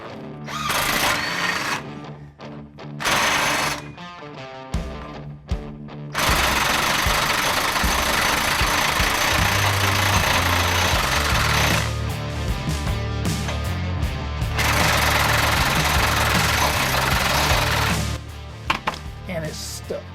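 A power tool works at a stuck, spinning bolt on a Ford rear axle during removal, giving loud intermittent bursts of rattling and whirring with short pauses between them.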